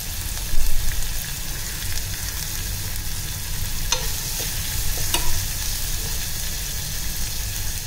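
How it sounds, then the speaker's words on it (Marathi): Peanuts, dry coconut, sesame, Malvani spice and onion sizzle softly in a pan, with a spatula stirring and scraping now and then over a steady low frying hiss. "छान मऊ होईपर्यंत छान परतून घ्यायचं आहे।"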